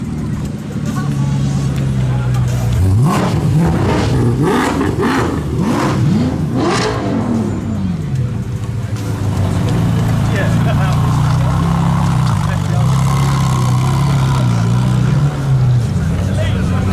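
Car engines rev and accelerate nearby as cars leave an evening car meet, rising and falling in several loud surges, while a crowd chatters in the background.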